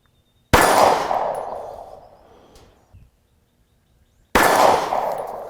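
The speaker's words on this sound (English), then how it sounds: "Fire my shot. I'm going to do 2 more." Two sharp, loud pistol shots are fired at a target on an outdoor range using iron or red dot sights, about four seconds apart, each with a ringing decay and close, with nothing else in between.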